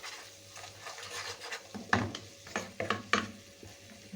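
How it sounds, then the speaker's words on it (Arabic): Wilted onion and a big spoonful of mashed garlic stirred in a pan, quiet scraping and a few sharp spoon-on-pan knocks over a faint sizzle, intermittent and close, no voices. "واديه تقليبة حلوة كده."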